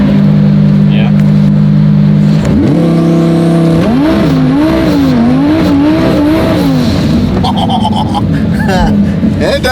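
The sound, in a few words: 1,200 hp car doing a burnout in launch mode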